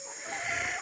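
A fighting hen, a white Kelso, clucking once in a short, close, slightly drawn-out call with a faint background hum.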